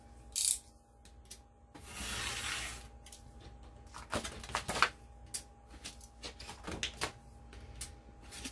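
A chunk is cut off a piece of fabric. Close, crisp snipping cuts and rustling come in irregular bursts over a low steady hum.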